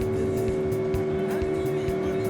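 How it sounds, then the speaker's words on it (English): A small outboard engine drives a boat along a river through mangroves in Senegal, a loud, steady droning hum with rough rhythmic pulsing and water noise close by. "Being pushed along the river with a little outboard engine."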